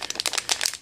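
Plastic packaging for a small electronic display crinkles and rustles in rapid, close bursts as it is cut and torn open with scissors.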